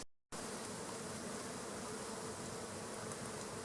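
A honeybee swarm hums inside a hive box, a dense, steady drone of countless wings that fills the space near and loud without a break after a brief silent start.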